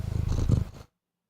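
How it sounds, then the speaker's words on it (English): A cat purrs close by in a low rumbling burst of under a second, then cuts to silence. "That's a cat purring."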